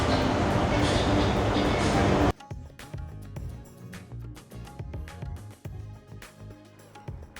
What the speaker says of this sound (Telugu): అండ్ ఇప్పుడు మన మెట్రో వస్తుంది, చూద్దాం అసలు ఎలా ఉన్నది అన్నది.